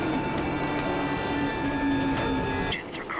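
A Yamanote line train in an anime scene rumbles steadily with a continuous hum and faint tonal whine, brief squeaks and clicks over it, fading slightly near the end, no talk.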